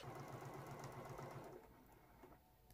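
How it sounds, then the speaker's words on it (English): A sewing machine quilting an art quilt runs in a steady rapid stitching whir, close and continuous, then slows and trails off near the end, with no talking. "I'm gonna go ahead and finish up the quilting off camera."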